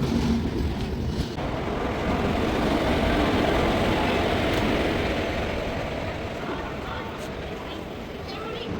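Indian passenger train 16779 Rameswaram Express, running from Tirupati to Rameswaram, gives a loud, steady rumbling roar that swells slightly mid-way and eases toward the end.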